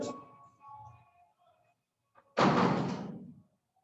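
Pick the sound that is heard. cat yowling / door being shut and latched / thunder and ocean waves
door being shut and latched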